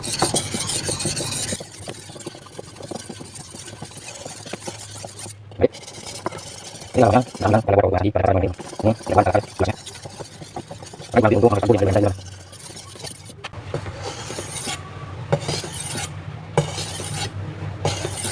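A machete scrapes rhythmically against a sharpener in bursts of rasping polishing strokes, with a voice speaking intermittently over the grinding.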